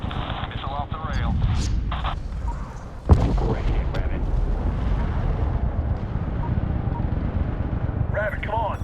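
A missile launches in the Medal of Honor video game with a sharp blast followed by a long, low, rumbling roar. Radio-style voices talk before and after the launch.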